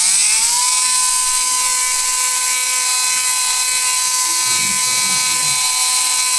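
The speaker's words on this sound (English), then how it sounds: "all we're doing right now is just checking the timing on the motor to see what it looks like out of the box" An RC brushless motor spinning on a bench dyno during a timing check, a loud steady high-pitched electric whine that rises briefly at the start and then holds constant, with faint voices in the background.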